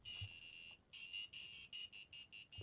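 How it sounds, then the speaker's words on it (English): A small buzzer on an electronic board gives a very quiet, thin high-pitched tone in short repeated beeps of uneven length, with brief silent gaps between them. "It has sound on the board for a buzzer."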